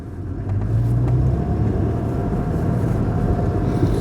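An Icelandic-spec, left-hand-drive Toyota Land Cruiser Troop Carrier on massive tyres pulls in high-range first gear along narrow mid-Wales lanes, its engine giving a loud, steady low drone and rumble throughout.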